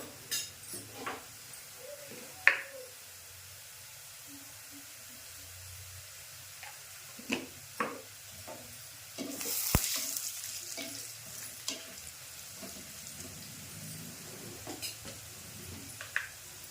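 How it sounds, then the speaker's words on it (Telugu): Sliced onions sizzle and crackle in a pan while turmeric is stirred in, with soft scraping and a few sharper clinks of a spoon against the pan over a steady fry. "ఉల్లిగడ్డ ఇట్లా ద్వారా వేగినాక ఇప్పుడు పసుపు వేస్తున్నా"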